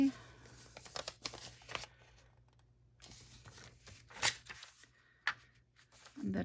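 Paper being folded by hand for a scrapbook pocket, with scattered crinkles, creases and soft rustles in uneven bursts, heard close up under intermittent talking.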